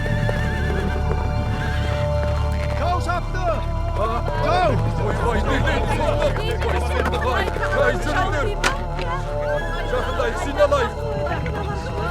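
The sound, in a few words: horses galloping and neighing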